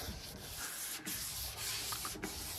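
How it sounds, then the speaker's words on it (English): Hand sanding a Porsche 911 body with a sanding block, close continuous scratchy rubbing strokes with brief pauses, no talking. "We're just uniformly sanding over the entire body."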